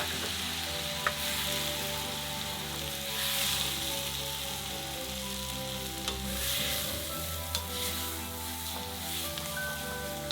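Wild mushroom risotto sizzles steadily in a pan while being stirred constantly, a continuous close frying hiss with occasional soft scraping taps from the spoon, no voices.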